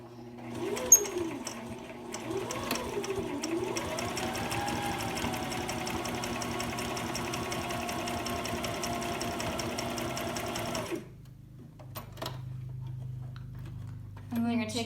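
A sewing machine stitches a fabric mask in a steady fast mechanical chatter for about ten seconds, then stops, leaving quieter handling sounds.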